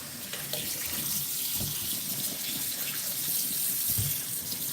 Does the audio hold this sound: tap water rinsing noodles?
yes